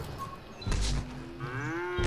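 A cow moos loudly in the video game Fortnite, one long drawn-out call over steady game background noise.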